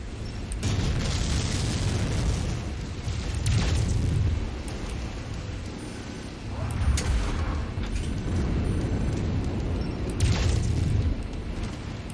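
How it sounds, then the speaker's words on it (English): Heavy booms and rumbling blasts from an ammunition explosion in the MechWarrior 5 video game swell and fade in several waves over a constant low mechanical drone. "So I lost the side torso because of that ammo explosion."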